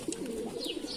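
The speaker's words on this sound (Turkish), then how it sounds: "Güzel kuşlar arkadaşlar," A Mardin pigeon gives a soft, low coo, close and quiet, in one brief murmuring phrase with faint higher chirps behind it.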